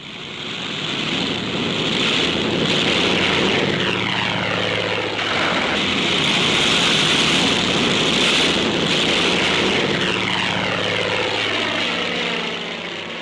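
Propeller warplanes take off from a carrier deck in heavy seas, loud droning engines rising and sweeping past one after another, with shifting pitch as each aircraft passes close by.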